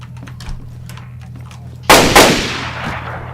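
Gunfire in the survival video game DayZ: two sharp, loud shots in quick succession after a stretch of quiet shuffling footsteps, each blast trailing into a fading echo.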